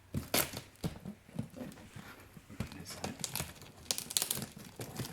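Packing tape tears and crinkles off a large cardboard shipping box holding an airsoft G.I. 2.0 minigun. It comes in irregular bursts of ripping and crumpling, close and moderately loud, with a few sharp peaks.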